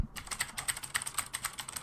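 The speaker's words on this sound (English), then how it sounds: "See, I can hear her tapping her keyboard." Someone typing steadily on a computer keyboard, a rapid run of light clicking taps that continues evenly throughout, close and clear with no talk over it.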